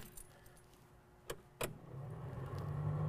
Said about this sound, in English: Now you can hear the heater fan work and stuff.